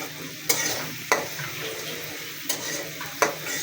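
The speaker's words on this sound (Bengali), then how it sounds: "পেঁয়াজ, তৈল আর কাঁচামরিচ দিয়ে ভেজে নিলাম" Onion, oil and green chili frying in a pan for special noodles, with a continuous sizzle broken by four sharp scraping stirs of a spatula, close and fairly quiet.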